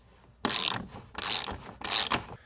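Ratchet loosening steel bolts set in an aluminum frame while removing a Tesla Model S mirror: three short, close bursts of quick clicking, evenly spaced with brief pauses between.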